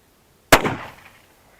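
A single sharp blast from a Hatsan Escort shotgun hitting an orange, loud and close, with a brief ringing decay trailing off into silence.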